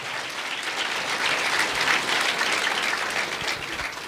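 A church congregation gives a sustained burst of loud, dense clapping that holds steady throughout, with no voices over it.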